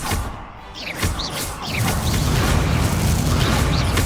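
A Confringo spell explosion in Hogwarts Legacy lands amid a duel, with sharp whooshing cracks and thuds building into a loud, sustained booming rumble that fills the rest of the moment.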